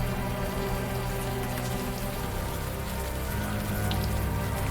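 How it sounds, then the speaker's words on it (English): Steady warm rain pours down in the Unavowed game, a dense unbroken hiss of drops on surfaces that stays even and close throughout, with no voices. "the warm rain is coming down"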